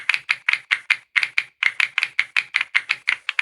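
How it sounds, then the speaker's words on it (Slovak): A computer keyboard in the ASMR Tower video game gives a steady run of sharp, close key taps, about five per second, loud and even with no voice over them. "Teraz klávesnice."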